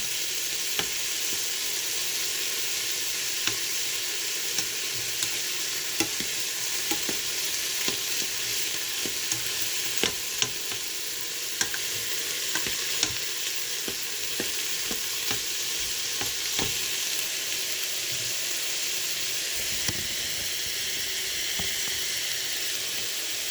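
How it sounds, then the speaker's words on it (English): Beef browning in a Crockpot Express multicooker, a steady close sizzling hiss with scattered pops and crackles and occasional utensil scrapes, continuous and fairly loud with no talking. "And we want a nice caramelization on our meat."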